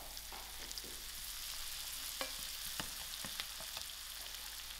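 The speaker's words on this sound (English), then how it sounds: "I'm going to add in my onions to it. I'll allow these onions to fry out." Onions fry in a pan for a stir fry, a soft steady sizzle with a few light clinks and scrapes of stirring, quiet and close, no talking.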